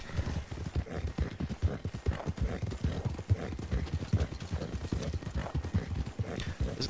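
Horse hooves pounding in Red Dead Redemption 2, a steady rapid clip-clop of galloping that continues throughout at moderate volume with faint mechanical rattles and no talk.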